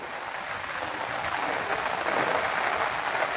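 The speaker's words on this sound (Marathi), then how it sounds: "किती जोराने पाणी वाहत आहे." The flooded Arjuna river at Rajapur in Konkan surges forcefully over a bridge during heavy monsoon rain, making a dense, steady roar that grows slightly louder toward the end, with no voices.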